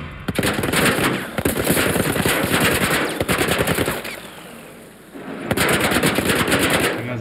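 Sustained machine gun fire in The Last of Us, loud rapid bursts with a short lull near the middle before another volley resumes, dense and close.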